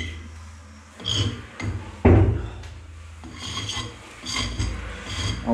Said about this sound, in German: Auch hier brechen wir die Kanten.